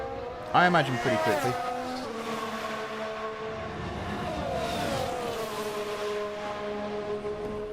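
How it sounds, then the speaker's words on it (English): Race car engines in the F1 Manager 2022 video game rev and whine through gear changes, with pitch sweeping up and down at moderate volume while someone talks over them. "Nothing is better than the sound of an engine."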